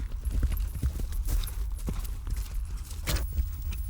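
Horse hooves clip-clop in an uneven rapid rhythm on firm ground, moderately close and alone, with dull thuds and occasional sharper strikes.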